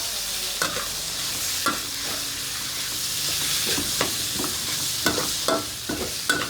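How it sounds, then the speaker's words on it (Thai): Sun-dried pork is stir-fried in a pan, with a steady sizzle broken by repeated sharp scrapes and clacks of the utensil against the pan. "เสร็จเรียบร้อยใส่หมูแดดเดียวลงไป หมูแดดเดียวลงไปผัดเลยค่ะ"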